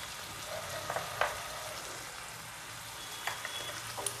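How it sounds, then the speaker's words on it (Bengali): Coriander powder, turmeric powder and other ground spices fry in a pan for Bengali-style chicken-stuffed pointed gourd dorma. A faint, steady sizzle runs under a few light clinks and stirring taps, with no voices. "এবার এগুলোকে ভালো করে ভাজতে হবে।"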